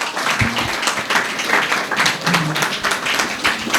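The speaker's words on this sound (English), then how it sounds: "Now, let's clap for the participants." An audience at a school inter-house English extempore speech competition claps for the seated participants, a fairly dense patter of many hands with a few distinct nearby claps standing out.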